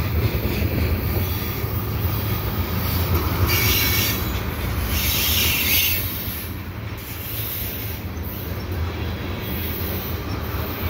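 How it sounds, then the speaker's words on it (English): A CP freight train hauled by a CN locomotive rolls past at night with boxcars and tank cars, a steady loud rumble of wheels with faint squealing throughout, no talk. "here comes the CPU. With CN locomotive. Unusual. Boxcars and tankers now."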